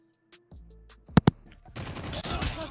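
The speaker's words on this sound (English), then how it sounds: "Oh my god, where did I get shot from?" Gunfire in the mobile shooter game COD Mobile: two sharp, loud shots close together, then a burst of rapid fire and game effects with faint background sounds.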